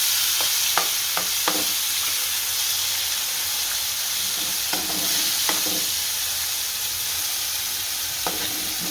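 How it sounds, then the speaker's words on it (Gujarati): Tomatoes tipped into garlic frying in a pan for a Gujarati green onion curry, with a steady sizzle throughout and several short scraping stirs of a spoon against the pan, close and moderately loud, with no talking. "હવે આ ટમેટા છે એ નાખી દઈએ એટલે ટમેટા સડી જાય સારા"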